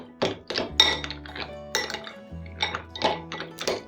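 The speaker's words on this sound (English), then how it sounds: "just put a little of water in and give it a stir" Spoon scraping and clinking against a dish while stirring dry pasta with sauce and water, a series of close, sharp knocks and ringing clinks at an irregular pace.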